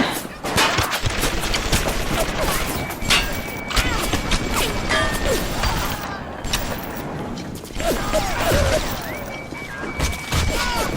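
Rapid bursts of gunfire and crashing impacts from the underwater shooter BioShock, dense and continuous, with a man reacting over the shots.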